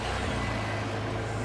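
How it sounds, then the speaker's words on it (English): An offroad truck engine idles steadily after being turned on, a low, even rumble heard close and continuous with no talking. "First, we're gonna have to turn on the truck."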